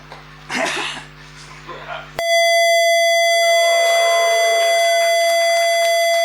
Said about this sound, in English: we get a beautiful 668 hertz tone